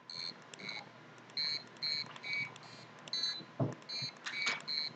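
A piezo buzzer, wired to a microcontroller pin and played from an online piano keypad, sounds a series of short, shrill beeps at changing pitches, each a separate note, faint and thin against a quiet room.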